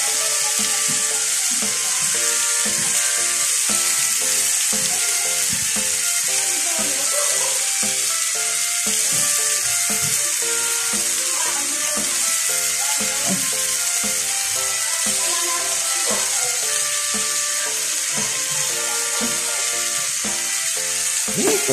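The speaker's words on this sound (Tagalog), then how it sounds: "Mikos-mikos ulit natin." Tofu frying in a hot pan while being stirred, a loud, steady, close sizzle with the light scrape and clatter of stirring running underneath for the whole stretch.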